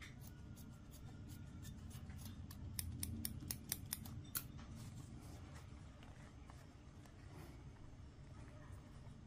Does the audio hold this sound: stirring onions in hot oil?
no